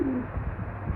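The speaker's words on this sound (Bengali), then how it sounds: "এই যে এক জোড়া পুরাতন কবুতর" A pair of old pigeons in a home loft, soft low cooing murmurs running steadily through a short moment, close and fairly quiet with no talk.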